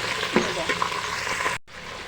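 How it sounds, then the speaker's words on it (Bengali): Washed cauliflower florets drop into hot oil already browning spices, onion and garlic, giving a burst of loud crackling sizzle that settles into a steady fry, with a brief dropout near the end. "এখন আমি ধুয়ে রাখা ফুলকপিগুলো দিয়ে দিই দিয়ে নেওয়ার পরে মিশিয়ে নেব"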